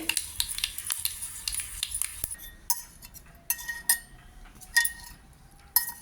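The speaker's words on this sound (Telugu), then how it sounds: "పోపు వేగింది." Mustard seeds, broken dried red chilli and asafoetida fry in hot oil for a tempering, giving a faint crackling sizzle broken by sharp metal clinks of a spoon against the pan.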